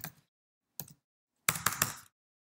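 Keystrokes on a computer keyboard while typing HTML code for a basic website: a short burst of taps, a lone tap, then a quicker cluster of clicks, close and fairly quiet, with no talking.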